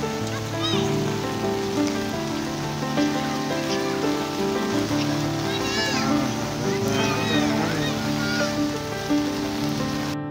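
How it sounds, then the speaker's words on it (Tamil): Heavy rain pours steadily in Visakhapatnam, a dense wash of patter close by while people talk over it. "ரொம்ப மழை வந்துகிட்டே இருந்ததில்"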